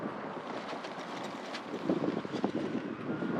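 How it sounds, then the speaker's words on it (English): Wind buffets the microphone outdoors by a farm field in a steady low rumble that thickens into louder gusts near the end, with no voices. "It's really windy today"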